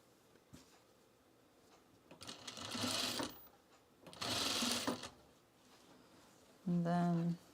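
A sewing machine runs in two separate bursts of stitching on pajamas, each lasting about two seconds, with a short tonal hum or beep near the end and quiet handling noise in between.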